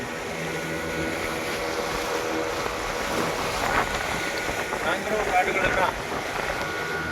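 A motorboat engine drones on open water in Puducherry, with wind buffeting the microphone, a steady rumble that swells briefly toward the end.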